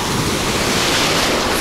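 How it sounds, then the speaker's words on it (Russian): Rushing surf from the sea washes in on a wild Crimean beach with a steady roar, mixed with wind buffeting the microphone. "Волны тоже хорошие."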